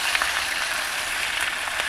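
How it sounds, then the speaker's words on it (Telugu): Ginger and garlic sizzling in hot oil while making chicken pickle, a steady crackling fry with no voices over it. "అదే నూనెలో ఒక 2 టేబుల్ స్పూన్లు అల్లం చిల్లిపాయ వేసుకొని ఫ్రై చేసుకోవాలండి."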